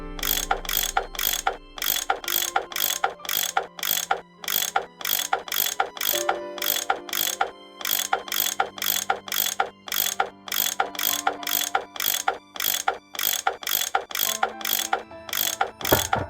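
A tool unscrewing bolts in a Nancy Drew train puzzle game makes rapid ratcheting clicks in steady repeated bursts, with brief pauses between them and a low mechanical hum underneath.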